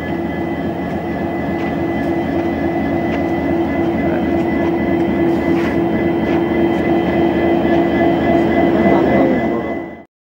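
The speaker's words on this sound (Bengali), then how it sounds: "ট্রেনগুলো বিশাল বড় বড়, এই ইঞ্জিনটাই বিশাল বড়।" A huge Indian train locomotive rumbles loudly and steadily nearby, a continuous heavy engine drone with rail noise that cuts off abruptly at the end.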